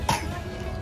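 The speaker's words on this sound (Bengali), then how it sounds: "এবার ইচ্ছা করে কাশছে" A child coughs once, a short sharp cough close by during an office picnic, with faint background noise after.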